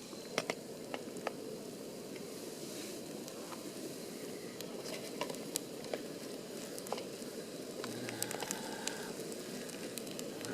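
Omelet frying in a pan at a Boundary Waters campsite breakfast, a soft, steady crackling sizzle with scattered faint ticks and pops, close and quiet.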